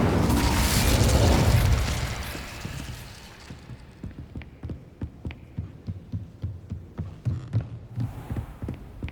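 An Incendio fire spell from Hogwarts Legacy bursts loudly at first, a broad roaring whoosh, then trails into a steady train of soft rhythmic thuds and crackles that fade toward the end.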